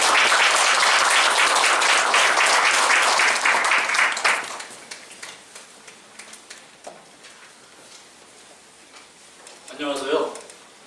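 A seminar audience at a Christian professors' forum applauds loudly and steadily for about four seconds, then the clapping tapers off into scattered claps and room noise, with a brief voice near the end.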